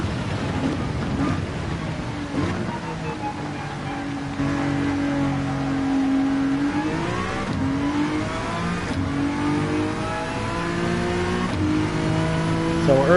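Honda NSX race car in Gran Turismo at Red Bull Ring, engine droning and rising in pitch through repeated gear shifts, steady and close with no talk over it.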